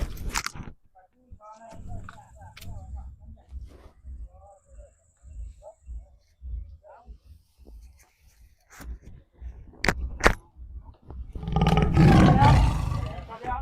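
A lion's deep roar swells loud and rough near the end, after stretches of voices talking and scattered clicks and knocks in a comic scene about a lion caught in a net.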